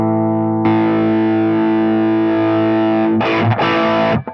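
An electric guitar plays through a Zendrive overdrive pedal with its voice knob turned up, giving a loud, sustained distorted chord followed by a few quick choppy strums before it cuts off.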